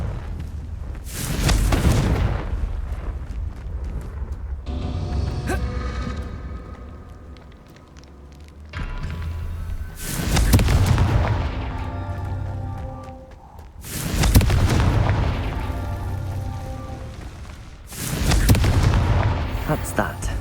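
Confringo blasting spell explosions in the Hogwarts Legacy video game: four loud, deep booms spaced a few seconds apart, each with a long rumbling tail, with talk and game sounds in the quieter gaps.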